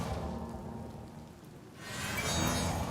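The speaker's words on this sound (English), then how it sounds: "there's one out here sleeping in the rain" Steady rain falls in a Skyrim city during a gameplay stream, a broadband hiss that dips slightly midway and then swells louder and fuller near the end, with no one talking.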